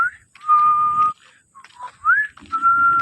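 Person whistling outdoors on a river trip, a few clear, close whistled notes, some held and some sliding upward, separated by short pauses.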